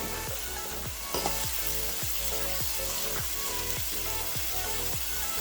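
Dried chili and eggplant stir-frying in a hot pan for a spicy eggplant dish, a loud continuous sizzle broken by regular tossing or stirring strokes, close and busy.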